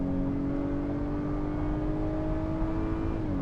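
Acura RDX A-Spec in Sport Plus mode accelerating hard, a steady loud engine drone with rising pitch and a quick upshift near the end, heard from inside the cabin without talking.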